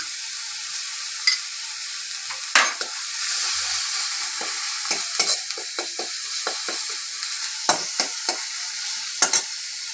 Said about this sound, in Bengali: এবার আদা রসুন বাটা এক চামচ দিয়ে দিলাম